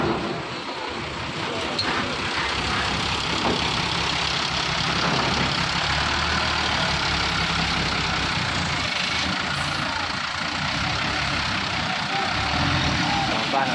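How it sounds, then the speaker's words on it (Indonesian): A Ramayana bus rolls forward onto a ferry at Merak port's Dock 3 at night, its engine a steady low idling rumble close by that runs throughout, with a broad wash of harbour noise over it. "Bis Ramayana dulu yang dimajuin ya."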